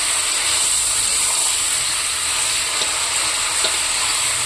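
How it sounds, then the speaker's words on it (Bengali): Vegetables fry in oil in a pan, a steady, loud sizzle and hiss that runs unbroken throughout with no voices. "ততক্ষণ একটু ভাজা হোক।"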